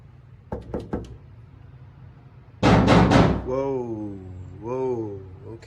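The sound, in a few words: knocking on a door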